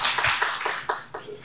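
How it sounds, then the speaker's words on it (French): Audience applause at an Ecobank Guinée forum in Senegal, a short burst of scattered clapping from a crowd, moderately loud and close. "on va applaudir Ecobank Guinée"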